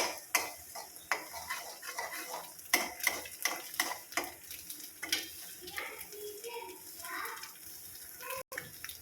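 Eggs fry in a pan for tomato and onion bhujia while a utensil scrapes and stirs. The stirring comes in uneven bursts over a low, steady sizzle, close and moderately loud, with no one speaking.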